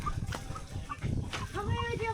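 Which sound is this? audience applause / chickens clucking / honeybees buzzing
chickens clucking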